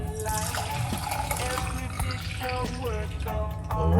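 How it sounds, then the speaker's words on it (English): A homemade drink is poured quickly into a cup, making a continuous liquid trickle and gurgle. Soft talking and background noise run underneath, and the pour swells at the end. "I'm gonna just pour it out quickly"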